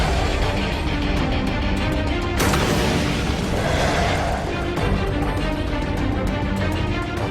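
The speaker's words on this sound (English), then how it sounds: "an MG-42 machine gun, firing 25 bullets a second" An MG-42 machine gun fires in rapid, rattling bursts amid a dense battle din of booms and blasts, loud and continuous with a heavy explosion partway through.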